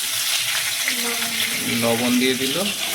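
Potatoes dusted with turmeric powder and salt fry in oil in a pan with a steady sizzle and crackle while someone talks over it.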